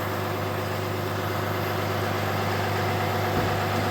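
A truck engine idles steadily after a remote start, a constant low rumble with a strong steady hum that holds unchanged throughout, no voices present.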